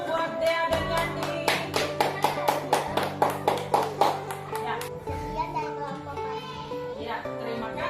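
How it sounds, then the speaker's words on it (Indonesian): Schoolchildren in a village class clap for two classmates, a quick burst of bright, rhythmic handclaps that fades out as a teacher's voice and children's chatter carry on over it. "tepuk tangan dulu buat Dea dan Yandi"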